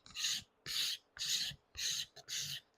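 A hand scraper shaves a wooden guitar neck in five even, rhythmic strokes, each a close, crisp, hissing rasp with short pauses between.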